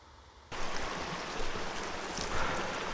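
A Colorado mountain creek, one that swells in spring, rushes in a dense steady hiss of flowing water that starts abruptly and continues loud and close, with no voices.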